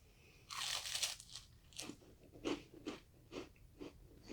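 Close crunching bites into a chocolate cake made of multiple wafer layers, a loud crisp crunch followed by a series of irregular chewing crunches and breaths, no talking.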